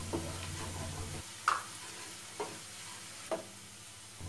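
Onions fry with turmeric in a pan under a low sizzle, as a spoon clinks and scrapes against the pan in a few separate, well-spaced strokes.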